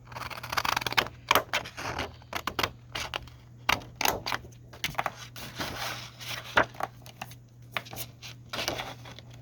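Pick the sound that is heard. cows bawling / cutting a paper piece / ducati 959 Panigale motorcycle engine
cutting a paper piece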